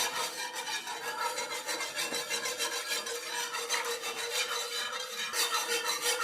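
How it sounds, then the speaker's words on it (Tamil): A continuous scraping, swishing rhythm of a utensil working through a thick semolina, yogurt and water batter in a bowl, steady and close, with no talking. "இதெல்லாம் சேர்த்து நல்லா கலந்து விட்டுறலாம்"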